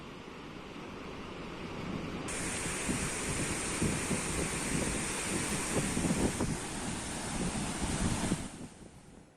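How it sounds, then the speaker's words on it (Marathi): A waterfall on the flooded Wainganga river roars in a broad, steady rush of water with wind buffeting the microphone, loud and continuous before easing off at the end. "वैनगंगा नदीवरचं हा जो धबधबा आहे"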